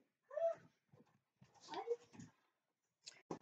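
A puppy whimpers indoors in a few short, high, nasal whines spread across a few seconds, close by and fairly clear, with brief quiet gaps between the cries.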